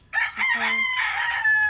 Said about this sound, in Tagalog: Ay, nakikisabay na naman ang mga manok guys.